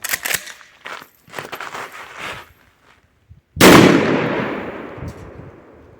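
A single sharp, loud shotgun blast from a Nobel Sport 206V powder test load cracks out after a few seconds of muffled handling sounds, its echo trailing off.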